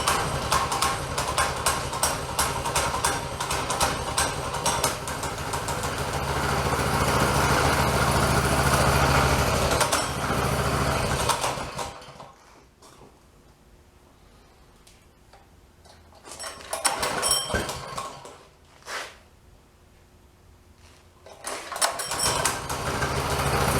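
A small engine on a military-themed mini bike is pull-started and runs with a fast, ticking mechanical idle for about twelve seconds, then cuts out, leaving quiet gaps broken by brief sputtering restarts.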